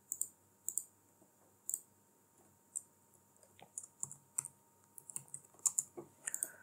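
Keys tapped on a computer keyboard in short clustered bursts with pauses between, quiet and close, with no talking.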